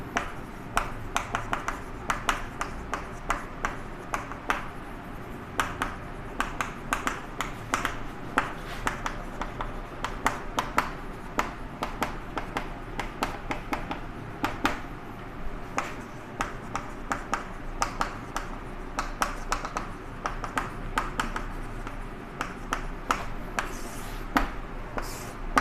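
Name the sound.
writing notes on a board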